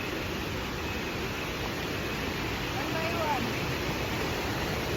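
Steady rushing water from a stream crossing near Sekumpul Waterfall in Bali, an even broadband hiss close by, with no distinct splashes standing out.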